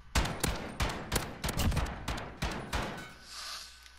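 Rapid pistol shots in Call of Duty Modern Warfare multiplayer, a burst of about a dozen sharp cracks in quick uneven succession, loud and close, then a short ringing tail as the firing stops.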